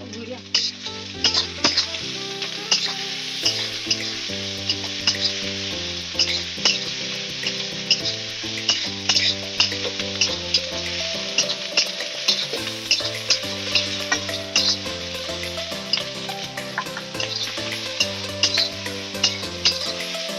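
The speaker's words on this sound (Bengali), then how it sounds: "রসুন বাটা দিলাম, আদা দিয়ে দিচ্ছি" Garlic paste and ginger fry in oil for biryani, a steady close sizzle with frequent clinks and scrapes of a spatula against the pan, while music plays loudly over it.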